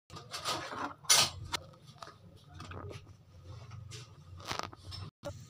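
Green chillies and black pepper being stirred into bhindi aloo, a spoon scraping and clinking against the pan in irregular strokes, with one sharper knock, close and moderately quiet.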